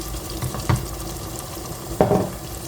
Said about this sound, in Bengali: সসটা দিয়ে সুন্দর করে আবার কষাই নিব অনেকক্ষণ, তারপরে ডিমটা দিব।